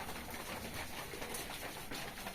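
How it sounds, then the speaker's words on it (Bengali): Pigeons feeding and cooing, a soft continuous murmur of low coos and rustling, faint and close with no other sounds rising above it. "দেখেন আমার কবুতরগুলো খাবার খাচ্ছে"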